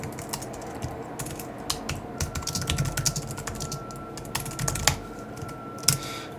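Rapid, close typing on a computer keyboard, with irregular bursts of clacking keys and a few louder strokes, while OpenGL code comments are written; no speech.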